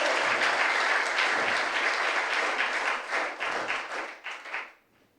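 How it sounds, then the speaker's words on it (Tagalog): Congregation applause at a church service in Manila, a dense, steady clatter of many hands that holds strong for several seconds before thinning into a few scattered claps and dying away. "Palakpak natin sa Lord."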